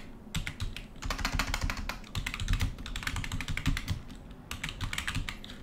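Rapid clattering keystrokes on a computer keyboard as a password is entered, bursts of quick close taps separated by brief pauses, clear and alone.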